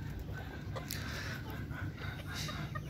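Kuwaiti black-meat hens and roosters cluck outdoors on a cold day, several faint, scattered clucks over a low steady background.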